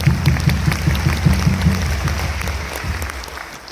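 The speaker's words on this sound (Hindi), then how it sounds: "एक बार उनके ताली बजा दीजिए प्रज्ञानंद के लिए" Audience applause at a direct-selling company meeting, sustained clapping with a rhythmic, in-time patter early on that loosens and gradually fades toward the end, with no talking over it.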